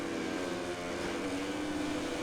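A Ducati racing motorcycle engine in MotoGP 2020 at Malaysia holds a steady, high-revving drone, fairly faint and continuous with no sudden changes.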